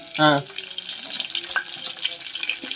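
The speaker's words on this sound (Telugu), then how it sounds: "నెక్స్ట్ 4 ఎల్లిపాయలు పోపులోకి వేసుకోవాలి." Four garlic cloves sizzle in hot oil for a Telangana-style tomato rasam tempering, a steady crackle under a brief voice at the start.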